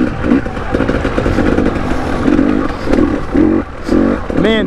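A motorcycle rides a rocky, puddled forest trail in the Allegheny National Forest in fourth gear. Its engine drones loud and steady with rhythmic surges, heard close from the rider's position.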